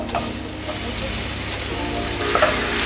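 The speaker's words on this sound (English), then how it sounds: "So we'll be frying the shrimps in the garlic." Loud, close sizzling and crackling of shrimp frying in hot garlic oil, continuous across the clip with faint stirring.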